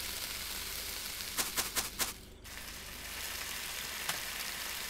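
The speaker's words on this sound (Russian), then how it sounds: "Возьмем стейк, 4 соли, перца и будем жарить" Steady sizzling of steak frying in a pan in the video game Cooking Simulator, with a few sharp clicks partway through, a constant hiss throughout.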